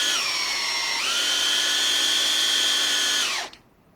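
Power drill spinning a worn bit into wood, a loud continuous high whine that shifts up in pitch partway through, then winds down and stops, leaving quiet.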